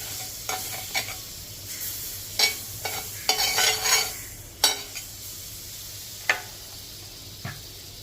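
Butter melting in a hot pan for warming pav gives a soft sizzle, broken by several sharp scraping and stirring clatters of a utensil against the pan, close and moderately loud.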